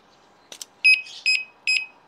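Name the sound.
disc brake lock alarm warning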